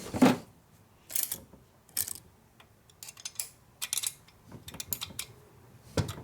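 A small mini wrench clicks in sharp intermittent ratcheting bursts while torquing down a 1972 Harley FLH 98ci shovelhead stroker motor, with quiet gaps between strokes.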